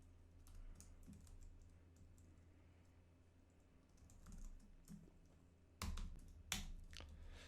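Someone types on a computer keyboard nearby in quick, irregular bursts of light clicks, with a few louder key strikes toward the end. There is no talk.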